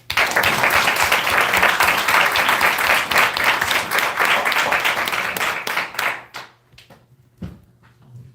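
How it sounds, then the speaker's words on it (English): An audience at Howard University applauds a speaker's introduction at a fireside chat, loud sustained clapping that thins into scattered individual claps and then stops. "please give a round of applause to Ms. Kim Poole"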